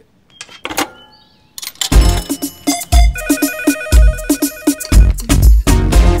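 A mobile phone rings briefly for a missed call in a Telugu comedy scene. The loud, bright electronic ringtone plays as a run of repeated tonal beeps over punchy beats, close to the listener.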